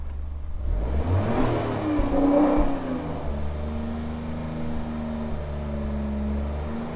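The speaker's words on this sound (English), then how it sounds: "just to give you an indication as to what the engine sounds like." An Alfa Romeo Giulia Quadrifoglio's twin-turbo V6 engine revs up sharply to a loud peak, then settles into a steady, droning idle, close by with no talking.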